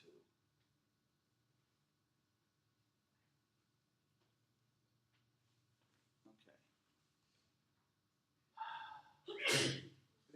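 A single sharp sneeze in a university mathematics lecture hall, brief and loud, bursting out near the end after a long stretch of quiet room tone and a faint earlier sound.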